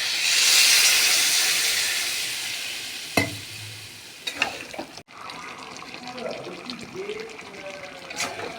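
Water poured into a hot pan of pumpkin, Malabar spinach and shrimp chorchori bursts into a loud steamy hiss that slowly fades, followed by quieter stirring clinks and bubbling.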